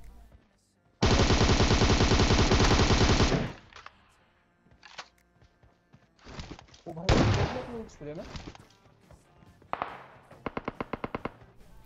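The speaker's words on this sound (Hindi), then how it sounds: "बस मैं गोली चलाता गया ढीटो की तरफ और दो बंदे एक ही सपरे में निपट गए" Automatic gunfire in PUBG Mobile: a long, loud sustained spray of rapid shots, followed by scattered shorter bursts and a quick string of single shots near the end.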